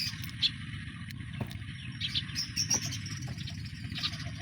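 Small birds chirp and tweet repeatedly at a moderate distance over a low, steady background hum, with no one talking.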